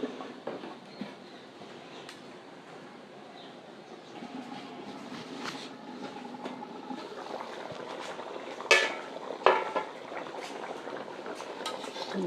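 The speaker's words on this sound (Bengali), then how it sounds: "টকবকা হয়ে ফুটছে, টকবক করছে আমার ইলিশটা।" Mustard hilsa curry cooked with onion bubbles in a covered pot, giving a quiet, continuous simmer with scattered small pops and a few louder bursts.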